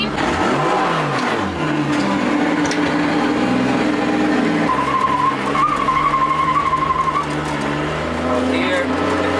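A Nissan S15 with a dual-clutch transmission launches from a standstill, the engine revving up loudly with tire noise and rising pitch, close and continuous, as a voice talks over it.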